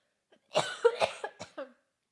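A burst of several quick dry coughs, close up and fairly loud, trailing off into silence.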